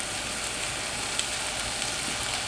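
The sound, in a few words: pot roast searing in a skillet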